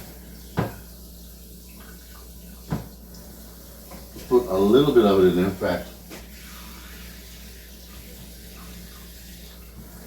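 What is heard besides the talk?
running water from tap into Pyrex dish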